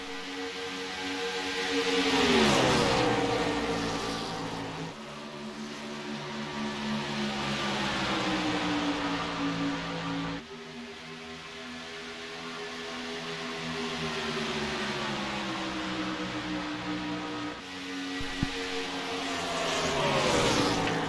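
Stock race cars in an all-star event roar around an oval tri-oval track, engines swelling and fading in repeated passes with shifting whine, loud and continuous with no talk.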